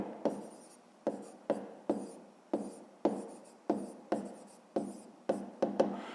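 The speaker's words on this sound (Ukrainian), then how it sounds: "ну і пишемо пояснення" A pen or pencil writes a handwritten math explanation on paper in about a dozen short, crisp scratching strokes, each a sharp tap followed by a brief fading scrape, close and quiet with no talk.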